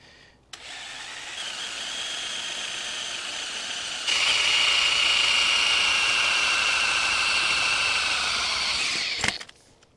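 A power drill bores a hole for the seat hoop on a 1975 Honda CB500T cafe racer frame, a close, steady whining buzz that grows louder halfway through and then stops abruptly, with no talk.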